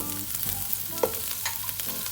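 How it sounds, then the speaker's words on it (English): Cabbage and mixed vegetables sauteing in a pan for vegetable fried rice, a steady close sizzle with stirring scrapes and a brief louder clatter midway, no talk. "First add the cabbages. Saute them."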